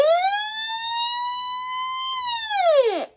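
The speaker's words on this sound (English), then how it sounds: "Has that analog siren" A single electronic siren tone from an analog weather radio alert sweeps up, holds steady for a couple of seconds, then glides down and cuts off, clear and alone.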